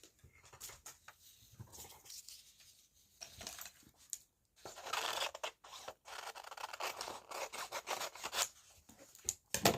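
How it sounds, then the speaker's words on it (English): Scissors cutting paper ephemera for a junk journal, heard as quiet, close, irregular snipping and rustling strokes with short pauses between cuts. "Right, the rest I think I'm going to have to do by scissors."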